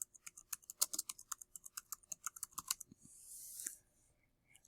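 Keys on a computer keyboard tapping in a quick, uneven run of close, crisp clicks, followed by a brief soft hiss, with no voices.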